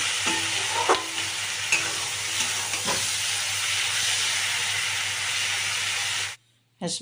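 Capsicum sautéing in a pan, a steady loud sizzle and hiss with spatula scrapes knocking now and then. The sound cuts off abruptly near the end.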